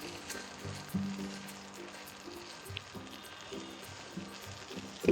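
Rice frying in paneer gravy for paneer pulao, a soft, low continuous sizzle with occasional faint stirring knocks and a steady background hum.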